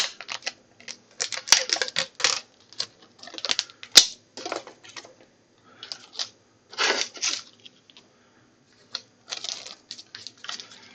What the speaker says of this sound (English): I will add another piece of tape to more cleanly tape that back on.